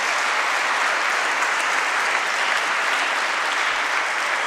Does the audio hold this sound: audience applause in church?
yes